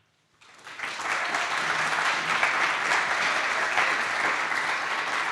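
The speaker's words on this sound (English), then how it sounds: "Keep clapping for Tanisha," Audience applause at a live poetry recitation event, starting abruptly after a brief silence and holding steady as dense, sustained clapping from a large crowd.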